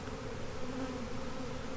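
A honey bee swarm gives off a steady, dense buzzing drone that stays constant and close throughout, with no talk.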